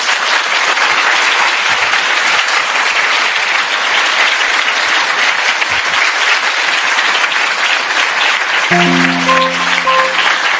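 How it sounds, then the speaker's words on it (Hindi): Church congregation applauding, dense and loud clapping that fills the room steadily, with a few sustained instrumental tones entering near the end as the clapping continues. "क्या हम प्रभु के लिए एक अच्छी ताली बजा सकते हैं?"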